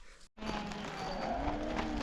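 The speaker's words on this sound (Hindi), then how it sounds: "बकरियों को नमक जब दिया जाता है तो बकरियां कुछ इस प्रकार से ही दौड़ती हैं" A herd of goats on a high mountain pasture rushes toward salt being handed out, with close, lowing animal calls over a busy scuffle of movement after a brief gap at the start.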